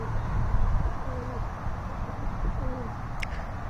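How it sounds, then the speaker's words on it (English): Pigeons coo softly in low, rolling calls while feeding on the ground close by, the murmurs repeating under steady outdoor rumble and rustle, with a brief sharp click near the end. "These pigeons are going to move in like a pack of zombies here."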